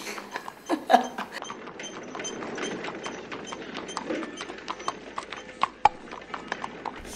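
Horse hooves clip-clop at a steady walking pace, pulling a milkman's horse-drawn cart down a street, with faint mechanical creaks and rattles from the cart alongside.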